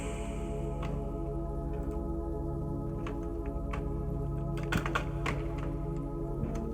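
Computer keyboard typing in a quiet lab setting, a series of soft, irregular key clicks at close range over a low steady background hum, with no talking.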